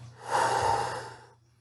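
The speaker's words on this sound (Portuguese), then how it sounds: "respirei, agora eu vou expirar" A single long exhalation of breath, a soft airy whoosh lasting over a second that swells and then fades away, close and alone.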